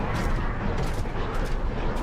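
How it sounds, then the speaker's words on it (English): A distant reactor explosion in the MechWarrior 5 video game rumbles as a continuous, distorted roar of low booms and crackling blasts, loud and dense throughout with no clear pauses. "I love how if you hear the explosion from a distance, it's kind of distorted and it sounds weird."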